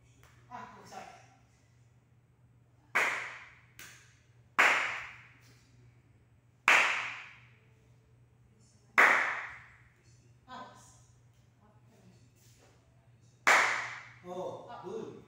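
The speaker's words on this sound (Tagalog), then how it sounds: "Papakinggan mo na yung palakpak ko ha." Sharp hand claps set the pace of a karate timing drill, six loud distinct claps spaced a second or two apart, with brief shuffling steps between them in a quiet training room.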